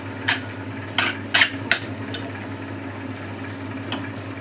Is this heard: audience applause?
no